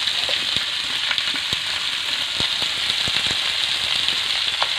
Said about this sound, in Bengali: আমি হালকা করে ভেজে নিলাম,